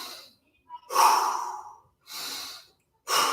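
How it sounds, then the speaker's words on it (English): Three deep breaths, close and fairly loud, between sets of a heavy leg-day workout with dumbbells and jump ropes; each inhale or exhale is separated by short silences. "Couple deep breaths."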